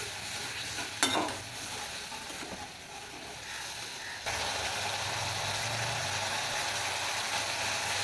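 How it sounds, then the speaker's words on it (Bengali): Masala paste cooking down in a pan after a splash of water, with a continuous close sizzle and occasional stirring scrapes. A sharp clink comes near the start, and the frying grows louder partway through. "দিয়ে আবার ভালো করে মশলাটা আমি কষিয়ে নেব"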